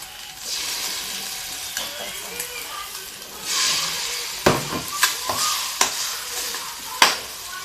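Egg stir-fried in a pan gives a soft sizzle under repeated clinks and scrapes of a spatula, which grow sharper toward the end.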